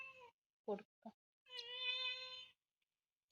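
A cat gives a drawn-out meow, close and clear, after a couple of short sounds; the rest is quiet.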